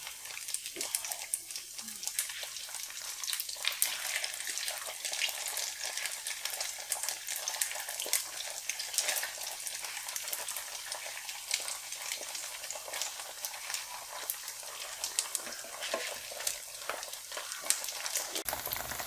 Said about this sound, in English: You get messy when you're cooking with bacon grease,